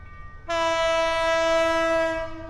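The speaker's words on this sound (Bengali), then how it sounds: "এই যে দেখেন ট্রেনটা কিন্তু আসতেছে" A train horn blares as a train pulls into Cox's Bazar, a loud, steady, sustained tone that starts abruptly and holds for about two seconds over faint background rumble.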